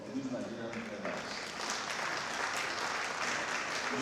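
Audience applause at an aviation awards and business summit, a steady wash of clapping from a crowd that swells slightly and continues throughout, with a voice over a PA heard faintly beneath.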